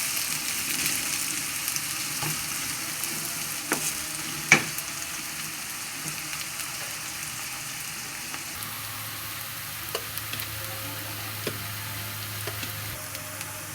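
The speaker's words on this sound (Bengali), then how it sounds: "এখন আমি এই পেঁয়াজটাকেও আগের মতন বাদামি রং করবো" Onions fry in a pan toward brown for a chicken roast spiced with cinnamon and cardamom, a soft, steady sizzle with occasional light clicks and scrapes.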